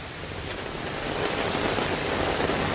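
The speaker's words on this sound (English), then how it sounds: "it's raining super hard to finish" Heavy rain pours steadily during an outdoor drainage install in a storm, a dense, loud, continuous hiss of drops on surfaces, nearby and unbroken, with no voices.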